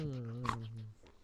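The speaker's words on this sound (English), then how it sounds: "Ready to see a dog go absolutely crazy." A dog lets out a brief, high, wavering whimper close by, eager and whiny, fading quickly into quiet.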